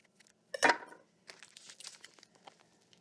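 Scissors cutting open the plastic bag of a mushroom grow kit: a sharp crinkling snip, then softer rustling and crackling of the plastic.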